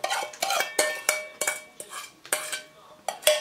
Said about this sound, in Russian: Замешиваем тесто